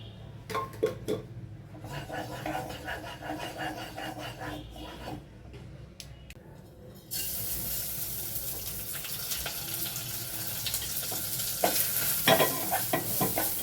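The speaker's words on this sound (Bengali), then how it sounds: "প্রথমে আমি কড়াই গরম করে সামান্য তেল দিয়ে চালগুলোকে ভেজে নিচ্ছি" Gobindobhog rice fries in a little oil in a wok with scraping stirs and a soft sizzle, which swells into a louder, steady hiss halfway through.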